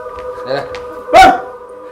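A dog gives a single loud bark during a live stage performance of the play Naga-Mandala in Dehradun, rising sharply over actors' voices and background hum.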